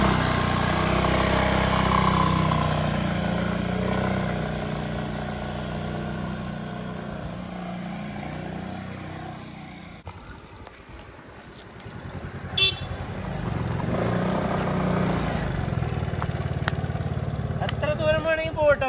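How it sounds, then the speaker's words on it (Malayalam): A motorcycle or scooter pulls away with a dog riding aboard. Its engine rumbles loudly and steadily, dips briefly, then rises again with a short horn toot, while voices talk over it. "ടെസ്സ ബൈക്ക് കയറി അപ്പൊ പോവാ."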